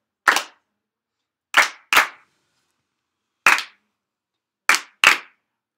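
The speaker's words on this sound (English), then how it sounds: "we're going to clap it together as a class" A fifth-grade music class claps a rhythm together in unison, six sharp group claps in an uneven pattern with silent gaps between them, crisp and close with no talking.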